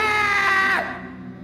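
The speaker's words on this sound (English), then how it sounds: "He screamed with all his might, trying to draw the zombies away from her." A man screams with all his might to draw zombies away, one loud sustained shout that rises and then breaks off, with no other sound around it.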